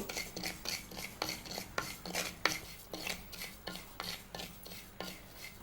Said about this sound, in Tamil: எண்ணெயெல்லாம் ஊற்றக்கூடாது, லேசாக அரிசி பொரிக்கணும்.